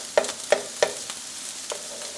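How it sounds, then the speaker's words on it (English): Butter melting in a frying pan with rice, giving a soft crackling sizzle broken by a few sharp clicks and scrapes of stirring, quiet and close. "I'm going to melt the butter."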